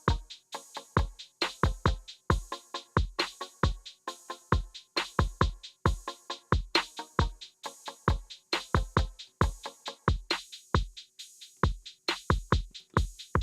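Drum beat played through a drive effect in Studio One's Impact, with punchy, gritty kick and snare hits repeating in a steady, tight pattern throughout, loud and alone.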